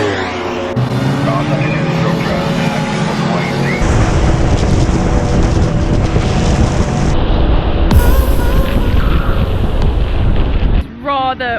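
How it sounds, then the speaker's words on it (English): Strong, steady wind buffeting the microphone on a motorcycle ride, a loud broadband rush with low rumbling gusts, briefly dropping near the end. "Windy out, and I could feel a few specks of rain"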